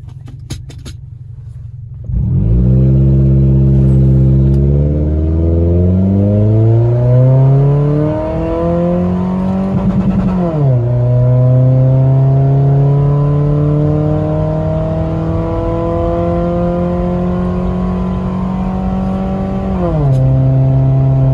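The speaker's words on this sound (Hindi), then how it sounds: "तो गाइस अब फाइनली हम 0-100 टेस्ट करते हैं" A modified Toyota Fortuner SUV accelerates hard from a standstill in a 0-100 test. The engine note is loud and close, rising steadily in pitch and dropping with each gear change, with no talk over it.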